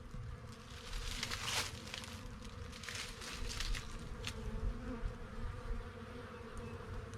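Honeybees from one of four winter beehives give a faint, steady buzz, with occasional louder passes close by.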